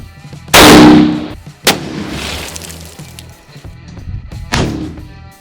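A bolt-action WW2 rifle fires a single loud, sharp shot into a cinder block at close range, followed by a shorter crack and fading debris rattle.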